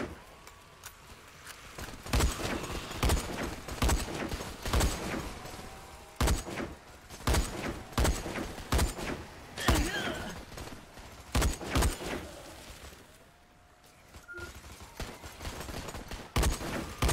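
Repeated rifle shots from the Dead Frontier 2 video game, using a Ritual of the Rabbit rifle build, crack out in a steady, evenly spaced rhythm over a constant noisy game background, loud and close.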